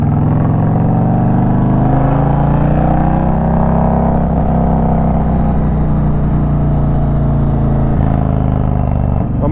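An Indian Challenger motorcycle fitted with a TAB Performance cat delete exhaust revs loudly and close by. A deep, throaty engine drone swells and falls through several rev sweeps and runs with no talking over it.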